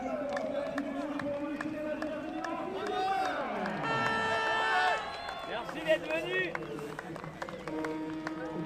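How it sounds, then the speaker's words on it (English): Crowd hubbub in the Vendée Globe race village at Les Sables d'Olonne on a chilly morning, a steady murmur of many voices with an MC talking over it, some tonal music-like lines and occasional louder calls. "In the background, you can maybe start to hear the noise of the race village"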